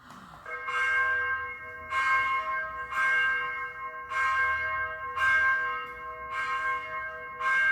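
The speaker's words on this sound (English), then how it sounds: "The bell started to ring." A church bell tolls six times at an even, slow pace, each strike ringing out loud and resonant and decaying into the next, with no voices.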